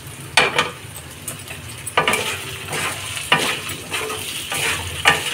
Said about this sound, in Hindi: इसको चला चला के अच्छे से फ्राई करेंगे